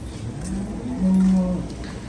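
A speckled cow on a cattle farm gives a single loud, drawn-out moo lasting about half a second, heard up close against quiet farmyard background.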